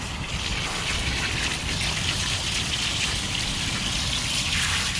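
Steady rushing water from a tap rinsing a tie-dyed baby onesie, a continuous dense gush with splashing that stays loud and close throughout, no voices.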